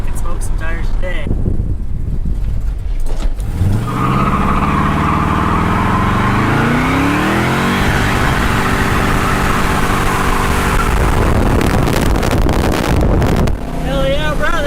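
A Dodge Dart with newly installed leaf springs does a burnout: its engine revs hard and climbs in pitch for several seconds, under heavy wind buffeting on the microphone, before dropping off.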